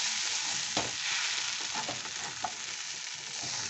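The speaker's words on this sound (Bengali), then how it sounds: "একটু নেড়ে নিচ্ছি, নাহলে নিচে লেগে যাবে" Food being stirred in a frying pan with the gas just turned off, a steady broadband sizzle under occasional scraping strokes of the spatula, close and continuous.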